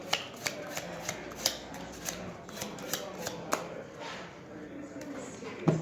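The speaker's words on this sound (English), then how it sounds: "here comes the shuffle" Rapid riffling bursts of playing cards being shuffled, a series of crisp clicks and flutters repeating close to the mic, with quiet talk underneath.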